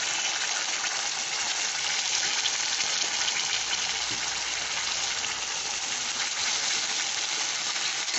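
A paste of ground cashew, onion and garlic sizzling and frying steadily in a hot pan, a continuous bright hiss with no pauses.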